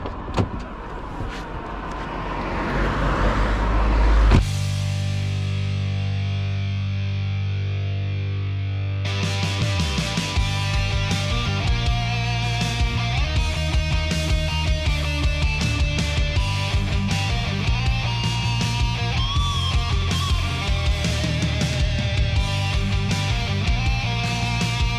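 A Mercedes-AMG GT S on the road: a smooth, steady engine drone gives way to a louder, rougher and busier acceleration that carries on to the end.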